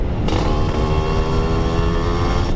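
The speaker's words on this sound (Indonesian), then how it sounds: "mungkin jadi pengaruh knalpot ini keras sih" A Suzuki Satria 2T two-stroke motorcycle with a loud exhaust revs hard, holding a buzzing, nasal engine note up close. The note shifts pitch slightly throughout and there is no talking.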